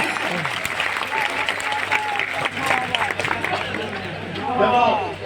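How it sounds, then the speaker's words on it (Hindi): Audience at a kavi sammelan poetry gathering breaks into applause, a dense stretch of clapping mixed with crowd chatter, rising toward the end as voices come through. "बजाओ ताली एक बार नहीं।"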